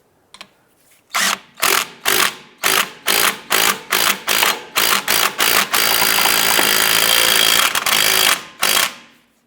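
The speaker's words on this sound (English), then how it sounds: "as we tighten this, it'll hit the hub face on the backside and pull the the brake drum forward" A puller is tightened to draw the brake drum off a 2011-2019 Ford Fiesta: a dozen loud, close mechanical bursts in a quick rhythm run into a sustained whirring stretch, then a few final short bursts.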